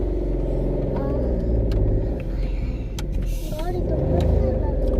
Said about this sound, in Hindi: गाड़ी फंसने लग गई हमारी, रेत है ना सारी।